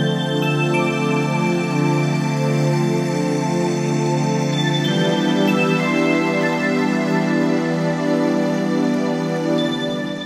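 Layered hybrid bell and mallet tones in a jazzy downtempo arrangement chime together in a dense, sustained wash, bright struck notes ringing over a warm midrange bed, with no voices.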